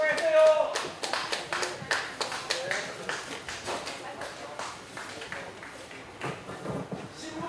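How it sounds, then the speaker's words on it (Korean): Outdoor crowd at a live pumba show clapping for a performer, a burst of many hands near and loud at first that gradually thins, with voices talking over it. "박수 한번 쳐주세요"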